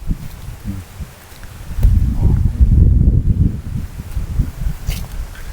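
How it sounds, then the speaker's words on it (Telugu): Wind gusts through farm trees beside the Kaveri river, building into a loud rumbling rush against the microphone that eases off again, with faint rustling. "అసలు గాలి చూసావా ఎలా వస్తుందో"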